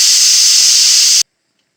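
A pressure cooker on a stove, cooking Andhra tomato dal, lets out a loud, steady hiss of escaping steam that cuts off abruptly after about a second, followed by silence.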